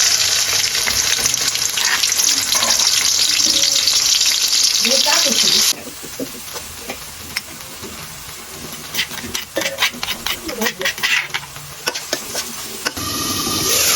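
Onion and ginger fry in oil with a loud, bright sizzle that drops abruptly to a quieter crackle midway, punctuated by clinks and scrapes of stirring before the hiss surges again.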